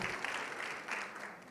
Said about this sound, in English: Can you clap for the 4 or 5 people that have